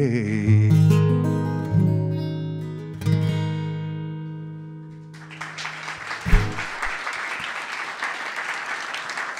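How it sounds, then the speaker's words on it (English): A concert audience breaks into applause as the final sustained notes of a guitar-and-voice song ring out and fade, then loud, dense clapping from a crowd fills the room for several seconds. "Thanks for clapping for that"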